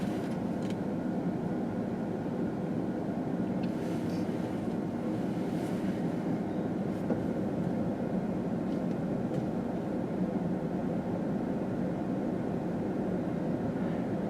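CSX freight train Q130, led by locomotive 3209, rolls past on Commonwealth line tracks with a steady, loud rumble of rail cars that holds without a break throughout.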